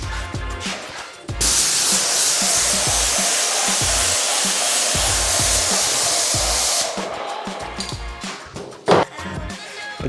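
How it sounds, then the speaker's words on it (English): Roll Cut machine spraying plaster into a corner, a loud, continuous hissing spray lasting several seconds that starts and stops abruptly, with clicks and handling noises before and after. "just going to spray a corner in"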